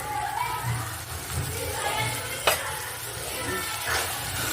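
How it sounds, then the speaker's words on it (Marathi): Tomato paste hits hot oil for an egg curry, giving a steady, close sizzle and frying hiss with occasional spoon scrapes in the pan. "त्याची पेस्ट केली होती आपण आणि आता ती ॲड करणार आहोत तेलामध्ये."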